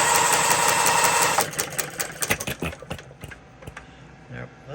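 A Coles engine running slowly while its mixture is adjusted: a steady hiss at first, then slow, uneven chuffing beats that fade and return.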